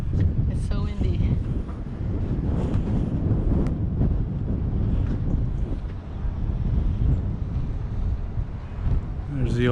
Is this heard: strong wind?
yes